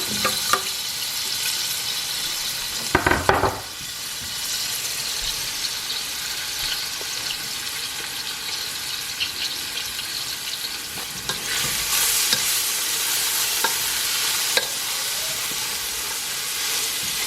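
Shrimp and aromatics for jerk shrimp pasta sauté on low heat in a pan, giving a steady close sizzle with scraping stirs and brief utensil clatter, swelling louder near the end.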